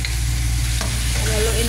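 Sliced tomatoes are stirred into a pan of frying shrimp, giving a loud, constant sizzle with a scrape of the utensil partway through and a brighter crackle as the tomatoes hit the hot oil.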